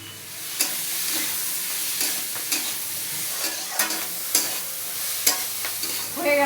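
Chopped beans and onion frying with salt for egg chicken chowmein, a steady close sizzle broken by sharp scraping strokes of stirring every second or so, with no talk.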